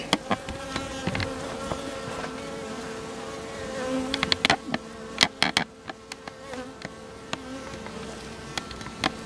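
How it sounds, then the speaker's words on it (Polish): Dense buzzing of many honeybees at a hive hums continuously up close, with sharp clicks and knocks scattered throughout. "Jak mnóstwo pszczół siedzi."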